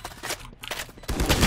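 Gunfire in Valorant from the Classic pistol sounds as sharp, loud shots in quick succession across a short stretch of game action.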